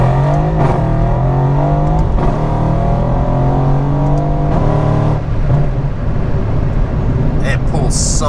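A Mercedes C63 AMG accelerates hard with a loud, rising engine roar, interrupted by brief shifts, heard from inside the car while a person talks over it.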